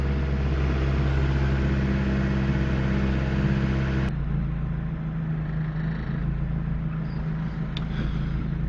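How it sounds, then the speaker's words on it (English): A 1987 Acura Integra engine idles close by after idle valve work, a steady low hum that settles lower partway through, with no talking. "As we sit here, the idle is coming down as little bubbles flow up in the coolant tank."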